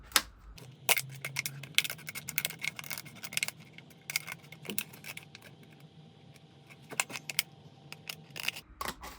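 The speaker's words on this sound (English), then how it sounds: "let's just go with scissors." Scissors snip repeatedly at close range, sharp irregular cuts scattered through the clip over a faint low hum.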